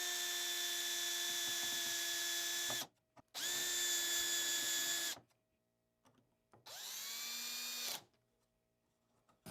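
A power drill drives screws into a wooden router table sled in three whirring bursts of a few seconds each, close and loud, with the motor pitch dipping as each screw seats and quiet gaps between.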